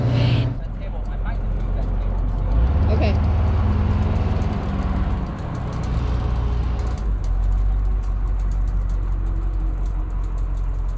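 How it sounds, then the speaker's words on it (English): A car engine drones steadily while driving at sea level on Route 66, a continuous low rumble with road noise that swells and eases slightly, under people talking in the cabin. "we're at sea level and we're just getting more oxygen into the engine"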